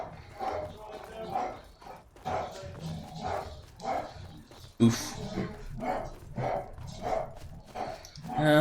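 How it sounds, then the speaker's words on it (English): A small dog barks in repeated short yaps close by, spaced at a steady rhythm under a voice talking over it, with one louder sharper bark near the middle. "Oh, my stinker's barking."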